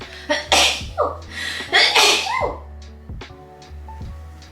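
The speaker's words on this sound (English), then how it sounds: "I'm gonna sneeze." A person sneezes loudly and close by, with sharp inhaled breaths before the burst and quieter breathing afterward.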